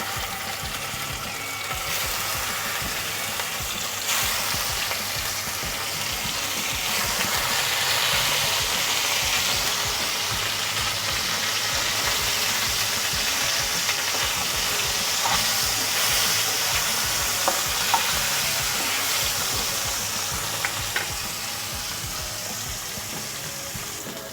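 Steady, loud sizzling and hissing of catla fish pieces frying in hot oil, continuous throughout with faint crackles and no talking.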